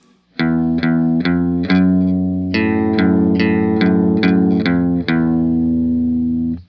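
An electric guitar plays the intro riff of a song with chorus and distortion effects, struck chords ringing in a steady rhythm, close and loud with no talking.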